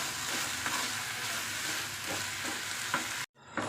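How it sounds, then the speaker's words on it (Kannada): Okra roasting in oil in a pan crackles and sizzles continuously up close, with occasional stirring scrapes, before cutting off suddenly near the end. "ಇದಿಷ್ಟು ಬೆಂಡೆಕಾಯಿ ಎಲ್ಲ ಕೆಂಪಗಾಗೋವರೆಗೂ ಹುರ್ಕೊಳ್ಳೋಣ."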